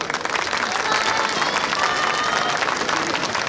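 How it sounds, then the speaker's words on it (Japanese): Loud, steady applause from a large crowd at a yosakoi dance festival in Ibaraki, Japan, sustained throughout with a dense wash of clapping. "大きな拍手をお願いいたします。"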